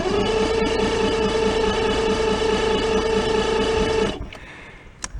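A small outboard engine on a bass boat, tilted up and running for the first time after ten years in storage, runs loud and steady with a buzzing, tonal drone, then cuts off abruptly, leaving a few faint clunks.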